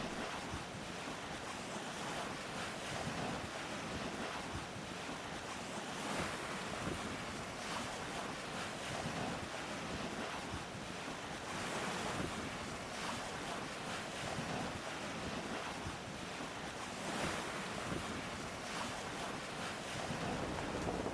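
A Najad 440 sailboat pushes through waves with a constant rush of water and strong wind buffeting the microphone, steady and loud, without voices.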